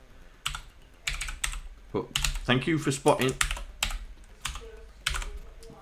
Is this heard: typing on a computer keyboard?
yes